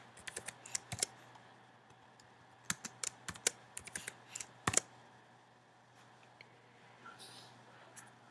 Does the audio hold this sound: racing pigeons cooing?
no